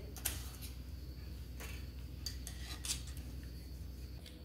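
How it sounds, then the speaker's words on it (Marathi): A knife slices tomatoes lengthwise on a board, giving faint, quiet taps and scrapes at an irregular pace against a steady low background hum. "आता आपल्याला टोमॅटो हे छान असे उभे चॉप करून घ्यायचे"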